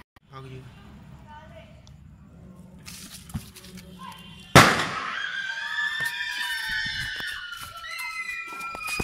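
Diwali firecracker buried underground goes off with one sharp, loud bang partway through, followed by shrill whistling tones and crackle, with voices outdoors before and after.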